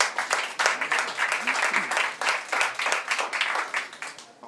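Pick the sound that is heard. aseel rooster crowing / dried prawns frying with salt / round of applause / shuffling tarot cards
round of applause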